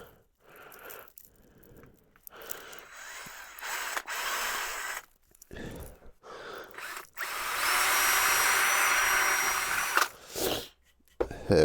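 A power drill boring two holes in wood to hold chopsticks for a handmade Christmas gift, bursts of whirring drilling separated by pauses, ending in one long loud sustained run.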